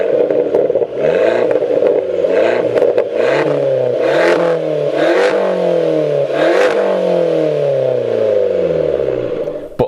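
A modified car with a straight-through exhaust revs hard, loud and close, the engine note repeatedly climbing and falling with crackles and rattles over a continuous heavy drone.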